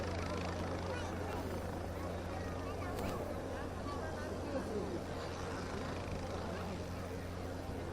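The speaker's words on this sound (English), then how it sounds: "we have a light helicopter now" Light helicopter, a very small one- or two-seat craft, flying at an aerobatic show at the Tianjin helicopter expo, heard as a steady, broadband rotor and engine drone, fairly distant, with crowd babble underneath throughout.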